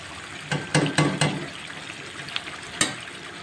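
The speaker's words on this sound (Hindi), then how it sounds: "कढ़ाई को बहुत अच्छे से चमचा चलाकर आपने तेज़ तेज़ फ्राई करना है, अच्छे से भून लेना है" Tikka karahi frying in a wok and stirred with a spoon: a soft sizzle runs underneath while a handful of sharp clinks and scrapes land in quick succession, then one more later on, with no voices.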